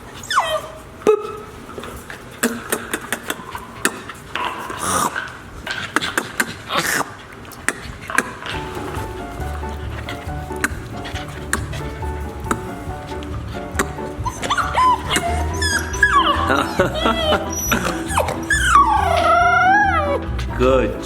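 Eight-week-old puppies howl and yip together during a playdate, with thin wavering cries building toward the end over scattered barks and household noise, while a person talks to them.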